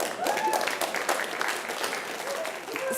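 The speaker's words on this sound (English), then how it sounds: "Thanks for the applause." Scattered audience applause at a Geo For Good conference session, light uneven clapping at a modest level with some faint tonal sounds and possible murmuring mixed in.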